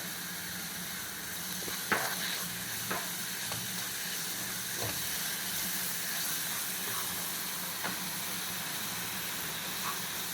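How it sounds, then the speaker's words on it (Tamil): Beetroot halwa with milk, cardamom and sugar simmers on a slow flame in a pan, giving a soft, steady low sizzle broken by a few brief stirring scrapes and clicks. "ஸ்லோ ஃப்ளேமில் நல்லா வெந்து வரட்டும்"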